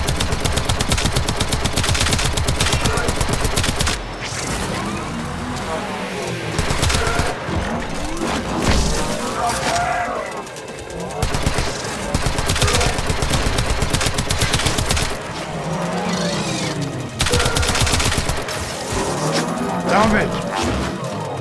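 Warframe gunfire, loud rapid automatic bursts in dense stretches broken by short pauses, with someone talking over parts of it.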